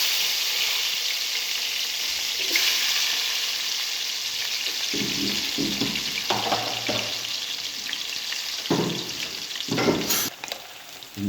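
Chopped onions and curry leaves sizzle in hot oil in a pan, with a steady frying hiss and occasional stirring scrapes and clatters.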